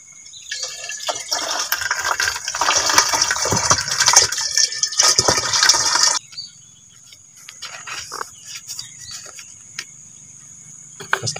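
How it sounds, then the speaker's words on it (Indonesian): Liquid for homemade organic NPK fertilizer pours into a container with a loud, close, bubbling gush for about six seconds, then stops, leaving faint drips and quiet handling. "Tuang."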